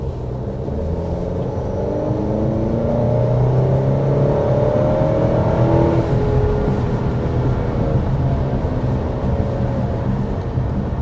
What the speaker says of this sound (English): I don't think the 2-liter turbo sounds unrefined or anything. I think it sounds pretty refined even under hard acceleration.